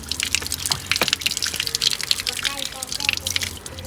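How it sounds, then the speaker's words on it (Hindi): Tap water runs and splashes while a child's arm is washed, producing irregular close splashes and drips, with someone talking over the water. "बाजू भी धो लूँ हाशिर का।"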